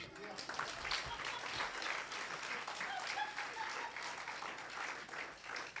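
An audience applauds steadily throughout, a dense wash of clapping hands that stays loud and even from start to finish, introducing a guest on stage.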